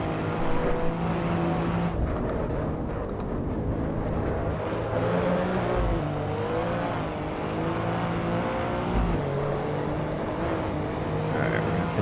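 Race car engine in the driving game Assetto Corsa EVO, holding a continuous loud drone that rises and falls in pitch through gear changes and revs for the whole stretch, with no talk over it.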